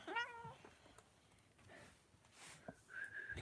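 Pet cat meowing near the camera, a clear rising meow at the start followed by softer, drawn-out cries and faint sniffing in a quiet room.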